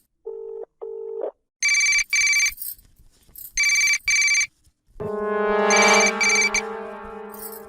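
A telephone ringtone plays in short repeated bursts, first lower beeps, then bright high chimes, ending in a longer sustained ringing tune.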